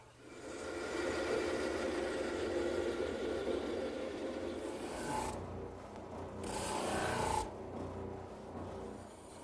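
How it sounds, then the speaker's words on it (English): A bandsaw cuts wood during a croquet set build, giving a steady close rasping whir that runs through the clip and swells with two brighter bursts near the end, with no talking. "Now to the bandsaw."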